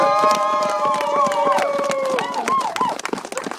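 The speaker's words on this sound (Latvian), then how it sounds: "Andrejs Redzevičs, aplausi!" A crowd applauds the first-place winner of a Steyr Puch Pinzgauer competition, with dense, rapid clapping mixed with raised cheering voices close by, tapering off toward the end.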